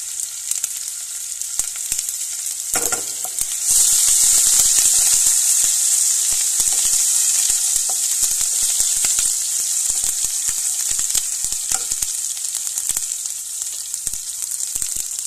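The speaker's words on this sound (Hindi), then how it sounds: "अच्छे से फ्राई हो जाने देंगे, भून जाने देंगे। अब इसमें ऐड कर देंगे अदरक और हरी मिर्च" Ginger and green chillies fry in a pan with a loud, steady sizzling hiss that jumps in intensity a few seconds in and keeps going, with occasional crackles and no speech.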